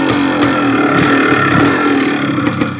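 A 1980 Kawasaki KDX250 two-stroke trail bike runs close by, a loud, buzzing, slightly uneven engine note that stays steady, with no speech over it.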